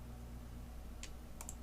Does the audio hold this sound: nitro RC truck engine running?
no